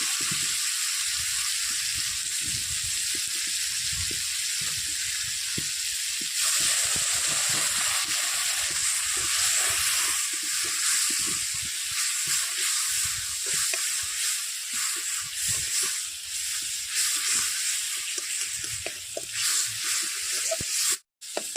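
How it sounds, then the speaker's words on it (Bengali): Spice masala fries in a pan for ghugni, giving a loud, continuous close-up sizzle and hiss with scraping stirs running through it, with no voices, before it cuts off abruptly at the end. "মশলাটা ভাজা হয়ে গেছে"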